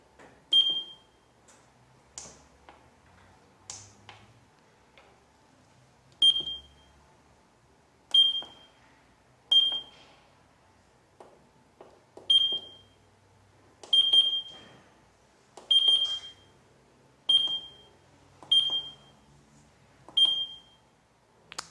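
A Neurodyn Esthetic electrotherapy unit gives a string of short, sharp electronic beeps at irregular intervals, clear and close in an otherwise quiet room.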